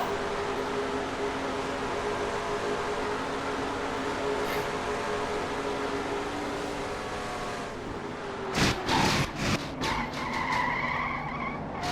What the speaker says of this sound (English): got the worst of the crash in that number 4 truck